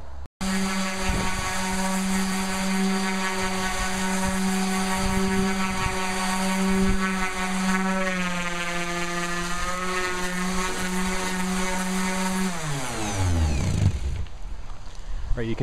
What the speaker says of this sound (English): I'm going to get my sander out and spend some time get these sanded